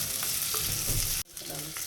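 Chopped onion hits hot oil with garlic, ginger and green chilli and sizzles loudly while a spoon stirs and scrapes the pan, cut by a short pause before the steady frying resumes.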